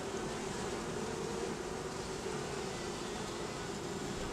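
Honey bees buzz at the entrance of a beehive in an Alaskan rainforest, a dense, continuous drone that holds steady and close without any talking.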